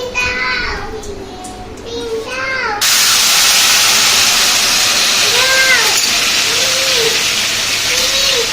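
Taro leaves drop into hot oil left from frying hilsa fish head, setting off a sudden loud, steady sizzle that continues to the end, with a child's or cat-like high cries heard over it.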